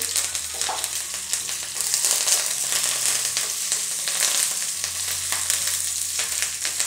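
Dried red chillies and curry leaves frying with shallots in hot oil for a fish curry tempering, a loud continuous crackling sizzle with some stirring, close up and free of talk.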